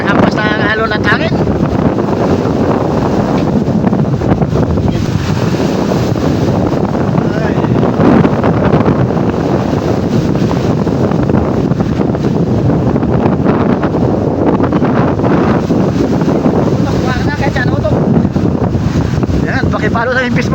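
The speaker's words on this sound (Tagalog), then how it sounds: "Kaya tiis pa rin sa paghampas ng alon at hangin." Strong wind roars and rough waves pound a small boat out at sea. The battering is loud and continuous, with heavy wind buffeting on the microphone throughout.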